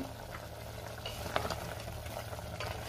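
Mutton rassa cooking in a pot, soft bubbling and sizzling with a few small clinks and stirring sounds, quiet and close.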